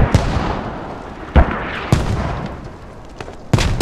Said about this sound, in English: We got a lot of friendly fire right now going on